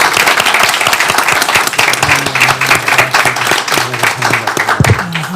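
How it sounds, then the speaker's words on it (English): An audience at a press conference on a nationwide Haiti survey gives panelists a round of applause, dense clapping throughout, loud and close, with a brief low thump near the end. "please, a round of applause for our panelists"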